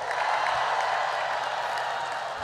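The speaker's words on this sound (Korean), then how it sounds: "여러분, 만인을 대표한 법륜스님과 네 분께 큰 박수 보내주시기 바랍니다" An audience at a large outdoor peace and unity choral event led by Venerable Pomnyun applauds, a dense, steady wash of clapping from many hands that holds at an even level throughout, with no voices standing out.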